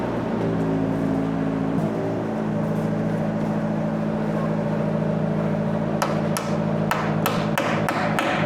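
Sharp hammer blows tacking clips that hold 3/4-inch PEX pipe to a wall, a quick run of loud, evenly spaced strikes near the end over a steady background hum.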